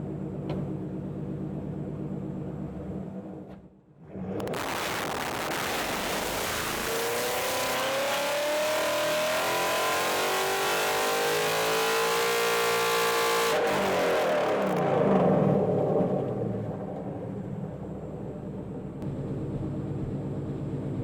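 Car engine on a chassis dyno during a baseline pull: a short lull, then a loud rising rev climbing steadily in pitch for about ten seconds, cutting off into a fading, rumbling coast-down.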